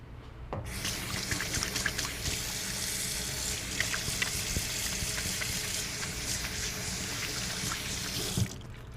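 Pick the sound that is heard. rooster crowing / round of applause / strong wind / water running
water running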